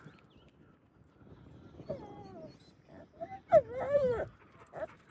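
A dog whines and whimpers in a few drawn-out, rising cries, close by, with quiet background rustling and no speech.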